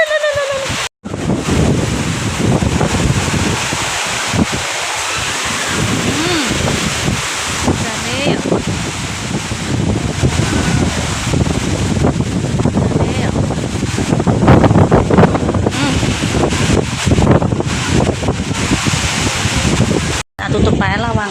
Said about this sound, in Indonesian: Udan angin.